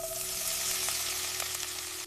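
Mushrooms browning in butter and garlic in a pot give off a steady, close sizzle with a faint hum running beneath it, and nobody speaks.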